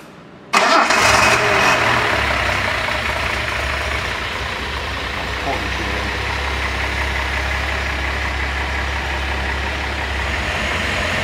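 A car engine fitted with SU carburettors cranks and catches abruptly after a moment of quiet, then settles into a loud, steady idle nearby with no voices.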